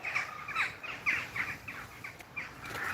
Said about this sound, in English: Hear all the crows.